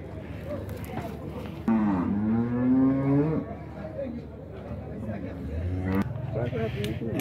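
A dairy cow at a cattle fair in Dois Riachos, Alagoas, gives a drawn-out moo, then a shorter one later, close by, with someone talking and faint crowd chatter around.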